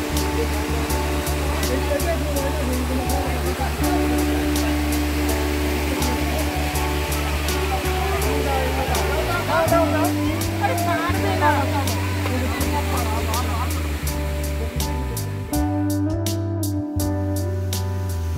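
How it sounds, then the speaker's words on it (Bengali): Steady rushing water at a waterfall in Purulia, West Bengal, a loud continuous roar filling the scene from start to finish, with a low constant drone underneath and no breaks. "এখানে একটাই যে আওয়াজ পাবেন সেটা হচ্ছে ঝর্ণার জলের"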